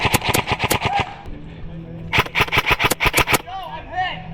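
Airsoft guns fire rapid bursts of sharp cracks during a game, in two clusters separated by a short pause, with voices nearby.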